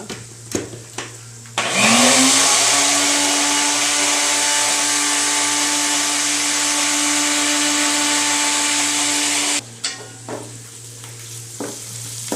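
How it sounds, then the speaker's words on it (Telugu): A mixer grinder whirs loudly and steadily for about eight seconds, starting with a rising motor whine, then cuts off, with a few clunks before and after in a kitchen. "మిక్సీ పట్టిన తర్వాత చూడండి"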